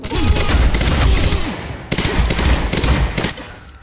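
Heavy sustained gunfire from the action game Quantum Break, dense overlapping automatic shots and booms filling the whole moment, with a brief break before the barrage resumes.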